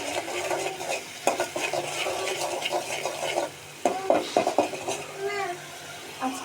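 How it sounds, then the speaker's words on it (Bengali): Turmeric, chili and salt fry in oil with garlic, giving an intermittent sizzle and crackle as a spoon stirs and scrapes the pan, with metallic clinks and a faint voice now and then. "আমি তেল আর রসুন দিয়ে দিয়েছি অলরেডি। আর এখানে আছে আমার সব কিছু মশলা, হলুদ, মরিচ, লবণ, এগুলো দিয়ে দেবো।"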